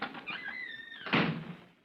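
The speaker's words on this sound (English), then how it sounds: "Slip out as soon as I open this door." Door being opened: a creaking, squeaking hinge rises through its swing, followed by a louder thump and latch rattle as it comes open, fairly close.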